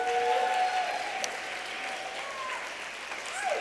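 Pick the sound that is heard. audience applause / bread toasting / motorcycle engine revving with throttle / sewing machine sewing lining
audience applause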